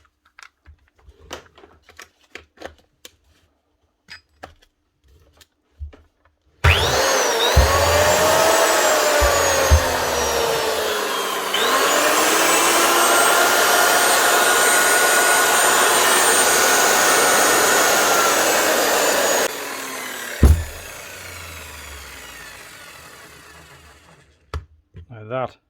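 A G23 SC grinder runs steadily for about thirteen seconds with a loud, whining motor that briefly dips in pitch partway through, then stops; quiet clicks and handling noises come before and after.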